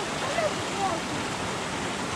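Stream water rushing steadily beneath a bridge in Padley Gorge, a continuous broadband wash, with faint voices and children's chatter briefly audible over it.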